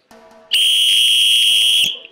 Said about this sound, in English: can I borrow your whistle?